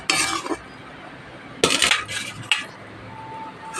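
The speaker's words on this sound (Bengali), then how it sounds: "ঢেলে নিই থালার মধ্যে।" Fried fish in oil is tipped from a wok onto a plate, heard as a few sharp metallic scrapes and clatters in short bursts separated by quiet pauses.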